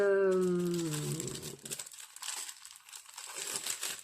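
A scrapbooking package ordered from AliExpress is unwrapped. Close, crisp crinkling and rustling of plastic wrapping comes in short bursts after a brief tonal sound at the start, with no speech.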